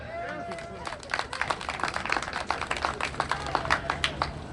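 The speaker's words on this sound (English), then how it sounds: "So let's get a huge round of applause for that." Crowd applause at a 2020 Diwali celebration in Richmond Hill, Queens, New York: dense, uneven clapping swells after a moment and carries on steadily, with a murmur of voices mixed in.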